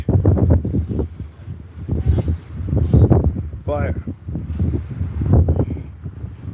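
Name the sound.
strong wind blowing into the microphone while walking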